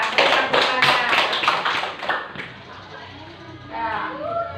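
Children in a primary school classroom clap their hands in a quick burst of rapid, overlapping claps, with voices of kids and a teacher around them as the clapping fades.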